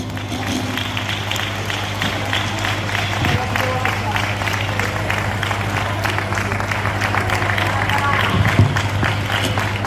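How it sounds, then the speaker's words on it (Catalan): A crowd at a carnival senior citizens' festival in Vinaròs applauds loudly and steadily for the carnival queen, a dense, sustained clatter of many hands over a low hum, mixed with crowd chatter. "Un fort aplaudiment."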